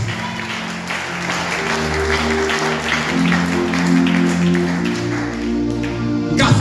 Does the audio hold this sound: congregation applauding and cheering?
yes